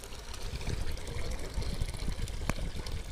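Water poured into a wood-fired water heater, a splashing, gurgling stream with irregular low sloshes and drips, moderately close and quiet, with no voices.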